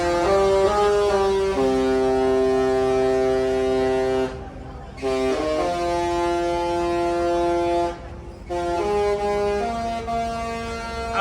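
The deep horns of the Princess cruise ship Star Princess sound at departure, with long sustained blasts separated by two short gaps, loud and steady, carrying over the open air.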